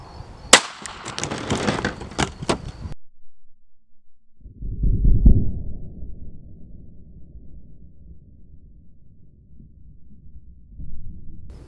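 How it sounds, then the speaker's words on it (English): A Sig Sauer P365 XL pistol fires a 150-grain synthetic-tip round into Heinz ketchup, giving one sharp, close crack followed by clattering, a pause, and then a low, rumbling thud that fades. "Next up is the Sig Sauer P365 XL, and I'm going to be shooting 150 grain."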